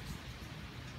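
Steady drizzle falls outdoors during Hurricane Florence, a soft, even hiss of rain that stays faint and unbroken with no voices.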